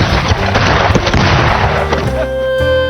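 Gunshots ring out in a film scene of white soldiers attacking, delivered as several loud, sharp bursts and booms in quick succession over a dense, roaring soundtrack.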